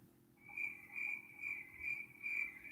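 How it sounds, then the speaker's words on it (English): Crickets chirp in a steady, pulsing trill that carries on evenly throughout, fairly close and alone with no voices. "And yet the crickets keep randomly popping up."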